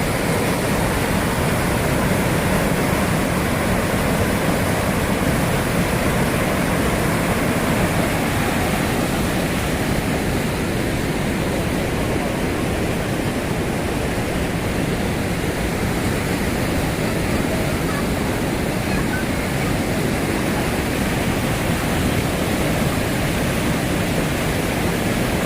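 Flooded Sangavadi river near Kodinar in full spate after the season's first heavy rain, a loud, continuous broadband roar of rushing water that stays steady and close throughout with no voices.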